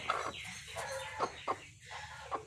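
A hen sitting on a nest of eggs clucks softly and repeatedly nearby, low murmuring calls with a few sharper notes, quiet and close.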